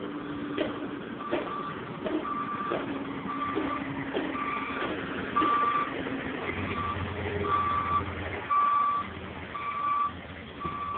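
Reversing beeps from a truck at a busy construction site repeat steadily through the scene as a high, evenly spaced alarm over rumbling engines and general site noise.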